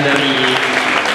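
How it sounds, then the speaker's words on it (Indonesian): Loud, dense applause from the audience at a student debate for a faculty student-body presidential election, steady throughout with no gaps. "Kita berikan tepuk tangan terlebih dahulu atas pertanyaan dari"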